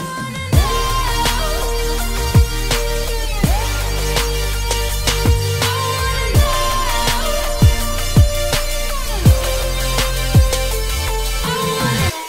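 An electronic track, remade in Serum, plays with a heavy sustained bass, dense synth layers and regular punchy hits, loud and continuous throughout.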